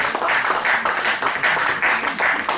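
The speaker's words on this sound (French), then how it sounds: "Acclamons Jésus pour ça" A church congregation applauds, producing a dense, steady wash of many hands clapping that holds evenly throughout.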